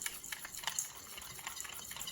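Nuruk being stirred into water for brown rice makgeolli homebrew, giving a soft continuous sloshing and swirling of liquid with small splashy accents, close up.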